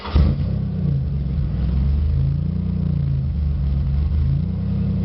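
The front engine of a twin-engine Pontiac Grand Prix GTP starts with a brief burst, then runs steadily with a low rumble and slight revving, loud and close throughout.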